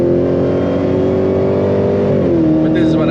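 A 6.2-liter V8 in a Dodge Charger Hellcat revs loudly and close, holding a strained, sustained roar before the pitch climbs, while someone talks over the engine.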